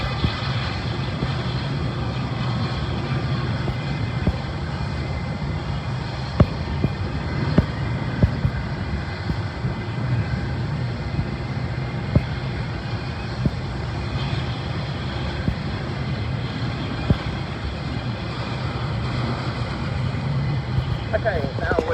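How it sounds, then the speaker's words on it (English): An aircraft pushback truck moves away at Heathrow Airport, its engine a steady low drone under airport ambience and wind, with someone talking over it. "Now the pushback truck is moving away"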